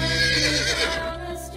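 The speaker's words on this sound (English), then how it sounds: "Horse." A horse neighs loudly and close, a single drawn-out whinny that fades toward the end, heard on its own.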